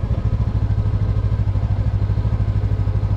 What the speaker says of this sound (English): this bike's just way too jerky in second gear